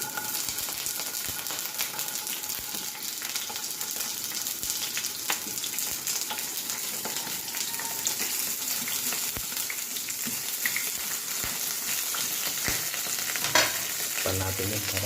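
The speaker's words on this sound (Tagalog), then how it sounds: "Prito natin tuyo." Steady crackling and sizzling of dried fish frying in hot oil, close and continuous, with occasional clinks of a utensil stirring the pan.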